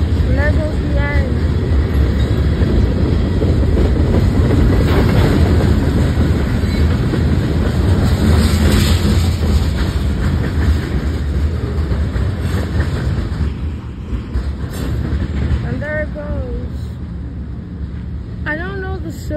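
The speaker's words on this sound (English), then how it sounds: "this is like the third manifest that I saw, and it's northbound" A northbound CSX freight manifest train rolls past close by in a loud, continuous rumble with wheel clatter, easing off toward the end, while a voice talks at times over it.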